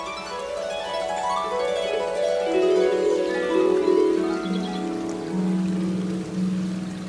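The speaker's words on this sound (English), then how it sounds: "the music of the water as it rushes over the rocks" Steady river water rushing over rocks, a continuous broad wash of flow at constant loudness, with faint tonal sounds drifting above it.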